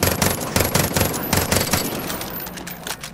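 Vector submachine gun in the Far Cry 5 video game firing in rapid bursts: loud, close, clattering volleys of shots coming in quick repeated groups.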